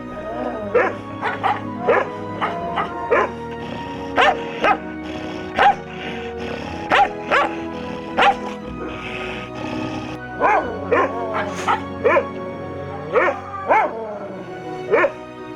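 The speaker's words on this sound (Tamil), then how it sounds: "நாயின் குரைப்பு" A Rajapalayam dog barks repeatedly at close range, sharp yips and barks in uneven bursts, with whimpering tones and some background noise between barks.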